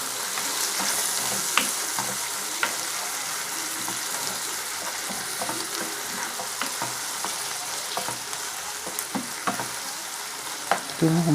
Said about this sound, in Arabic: كده شوحنا البصل والثوم والفلفل الاخضر.